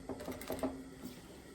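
A sewing machine stitches binding around a blouse neckline in a short, quiet run of rapid mechanical clatter that fades out after a fraction of a second.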